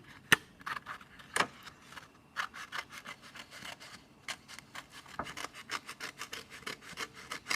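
Scissors cut through paper for a camellia flower craft, a string of quick crisp snips and rustling strokes, close and quiet, with no voices.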